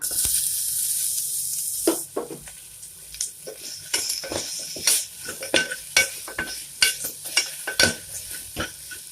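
Chopped onion sizzling in a hot pan with repeated stirring scrapes and clinks, a steady crackle underneath sharp utensil knocks.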